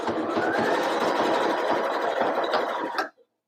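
A sewing machine stitches sweater fabric in a steady, fast whirring run for about three seconds, then abruptly stops, close and clear with no talking.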